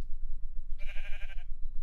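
A single sheep bleats in Minecraft, one short wavering baa standing out clearly over a low background rumble.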